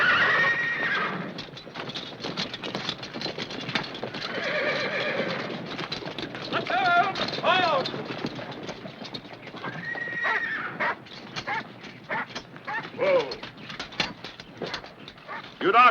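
Horses whinnying and neighing repeatedly, with hoof clip-clop throughout and a dog barking and whimpering in the mix, in a busy, continuous scene.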